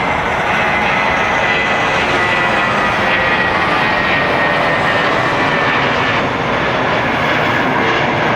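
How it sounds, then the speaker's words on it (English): United Airbus A320 airliner rolling down runway 25 Right at LAX, a loud, continuous jet engine roar holding steady throughout, with no talk. "A320 with United, now rolling down a 25 right."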